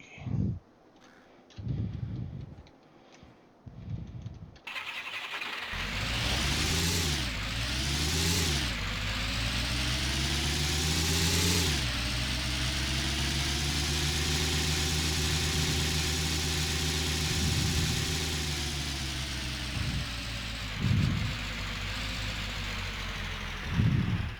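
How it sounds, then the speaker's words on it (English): Jeep engine running in a snowy tank combat video game, a steady close idle that revs up twice early on, then settles into a long even rumble, with someone talking briefly at the start. "Keep that Jeep engine running."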